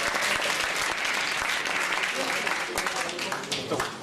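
An audience at a public forum on GMOs in a student hall gives sustained, dense applause for two speakers, a professor and a doctor, steady and full throughout with no pause.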